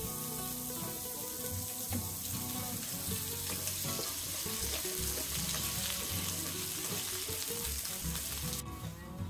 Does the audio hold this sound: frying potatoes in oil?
yes